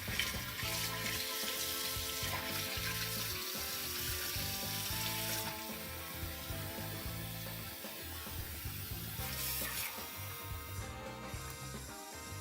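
Cold water runs steadily from a kitchen tap, a continuous close hiss and splash that continues throughout with no talking.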